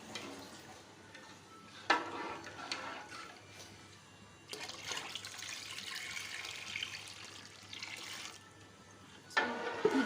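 A jug of water poured into a cooking pot of curry for curry pakoras, a steady splashing, gushing stream in bursts, close and fairly loud, with no talking.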